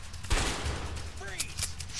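Gunfire in the video game A Way Out: a heavy burst of shots, then a second volley about a second later, over a steady low rumble, with voices in the game.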